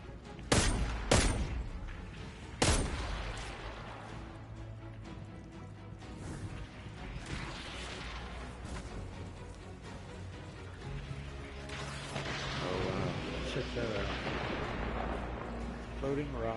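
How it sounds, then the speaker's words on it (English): Loud booming blasts from exploding rocks in a PS4 video game, a few sharp bursts early on followed by rumbling, crackling debris and continuous game noise. "Exploding rocks."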